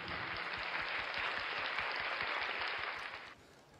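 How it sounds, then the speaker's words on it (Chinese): A press-event audience claps loudly and steadily to welcome a tea-expert guest, and the applause fades out near the end. "所以我们掌声欢迎我们的徐黄涛小哥哥"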